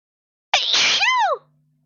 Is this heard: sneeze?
yes